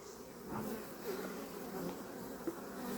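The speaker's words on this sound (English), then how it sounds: "Busy bees." Honey bees in an opened hive drone in a dense, continuous buzz close to the ear, the hum wavering slightly in strength, with a small tap near the end.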